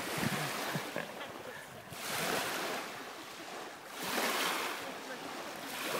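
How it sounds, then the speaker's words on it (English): Ocean waves washing onto a beach at Ma-Me-O Beach on a summer day, broad surf swells rising and falling in two or three long surges with steady wind noise across the microphone. "First time at the beach."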